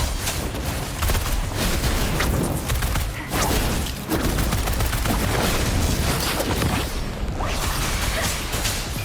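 Bomb explosions in the combat of the video game Wuthering Waves come as dense, loud, continuous bursts and booms, layered with crashing impacts and no voices over them.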